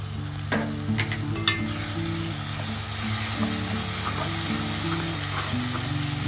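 Chicken gravy sizzles steadily in a pan as salt is stirred in, with a spoon scraping and clicking over the bubbling, up close and fairly loud, under a faint steady hum.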